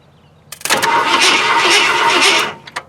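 A 1970 Ford LTD Country Squire station wagon, left sitting for years in a field, cranks over with a loud, steady starter whir lasting about two seconds, then cuts off, followed by a couple of faint clicks.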